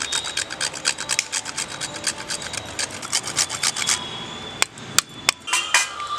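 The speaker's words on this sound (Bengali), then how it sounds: "এই মিশ্রণটার মধ্যে একটুখানি জায়ফল গ্রেট করে দিয়ে দেব" Whole nutmeg is rubbed against a grater over a spice mixture for a vegetarian paneer dish. Quick, even rasping strokes repeat in a steady rhythm, then break into a few separate scrapes with small knocks between them.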